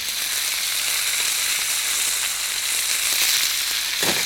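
Stink beans and red and green chili peppers sizzle steadily in hot cooking oil for a sayur lodeh, a close, even crackling fry with a soft stir near the end.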